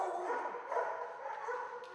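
Several dogs bark and yip continuously in a crowded shelter dog building set up in a barn, the overlapping barks close and fairly loud with no pauses.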